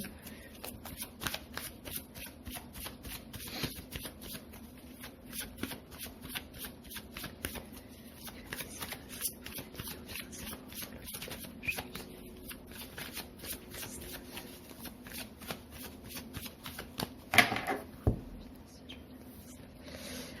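Tarot cards are shuffled by hand in a rapid, steady run of soft riffling flicks that goes on and on, close and fairly quiet, with a brief louder shuffle burst near the end and no talking.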